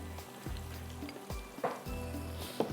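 Turmeric tipped into a pot of cumin on a lit stove, a soft steady sizzle with a few small taps and clinks of a utensil against the pot, close and fairly quiet.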